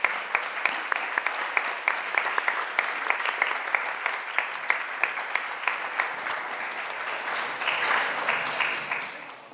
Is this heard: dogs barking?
no